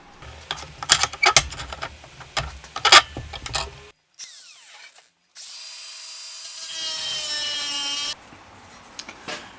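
30x30 steel tube being cut into legs for a gas bottle wood burner: a rough, clattering grinding stretch, a brief pause, then a loud sustained high metallic whine of a cutting tool biting into the tube, close and with no talking.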